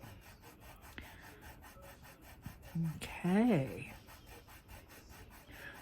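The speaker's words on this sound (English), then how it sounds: "just sand the back against the sanding material, like so." Soft rasping rubs of polymer clay sanded against sanding material, repeated strokes close by, with a brief spoken word and some quiet background noise.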